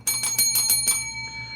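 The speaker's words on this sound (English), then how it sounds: "I got to hit the gratitude bell for everybody watching." A gratitude bell rings about six times in quick succession, bright clear strikes that leave a ringing tone fading alone at the end.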